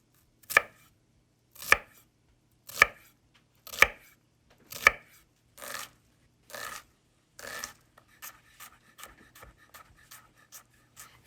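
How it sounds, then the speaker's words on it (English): A knife chops an onion on a cutting board in a home kitchen. About a dozen crisp thuds come at a steady pace, slow and evenly spaced at first, then quicker and lighter toward the end, all close up with no talking. "you can just put it on your side and chop it up like so. Now I'm just gonna do the same thing with the rest of the onion."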